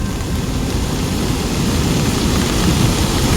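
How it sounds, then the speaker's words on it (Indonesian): Strong wind and heavy rain with thunder during a storm near Semeru, heard as a dense, steady roar of rain and gusts with a low rumble underneath, continuous and loud throughout. "Angin cukup kencang disertai petir, hujan cukup lebat."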